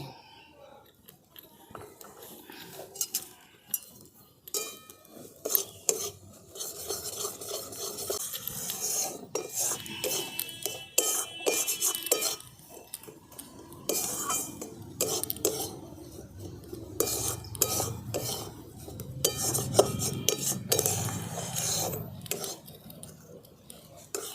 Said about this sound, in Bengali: বেসনের সঙ্গে সুজিটা আর বেসনটা ঘিয়ের সঙ্গে বেসন আর সুজিটাকে খুব ভালো করে মিশিয়ে নিয়েছি